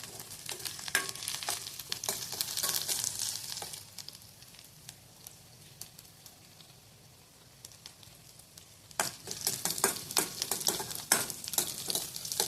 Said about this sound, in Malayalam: ചെറിയ തീയിൽ നമുക്ക് നല്ലതുപോലെ ഇരുന്ന് താളിച്ചെടുക്കാം